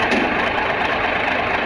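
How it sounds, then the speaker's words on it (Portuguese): A truck engine runs steadily with a dense, rough rumble, loud and close, holding an even idle throughout without pauses. "misteriosamente, o caminhão dá a partida"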